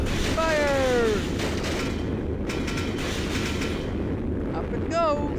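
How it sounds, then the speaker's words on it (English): A missile launch in the Sonic Adventure 2 video game, a steady loud roaring rumble sustained throughout, with whooshing swells and voices over it. "Missile launch in 15 seconds."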